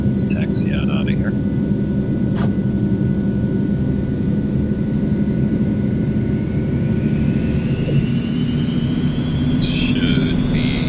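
An Eclipse 550 jet taxis in X-Plane 11, its engine a steady low hum and whine with a rising tone, running under a voice and a few brief interface beeps.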